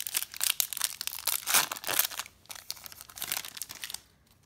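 Foil wrapper of a Star Wars-style trading card booster pack (Wars TCG Incursion) crinkling and tearing open up close, a steady run of sharp rustles and rips with a few louder bursts, fading near the end; no talking.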